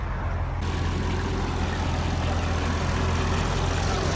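A Mercedes-Benz CL55 AMG engine idles with a deep, steady rumble, loud and close, holding an even low drone the whole time without revving.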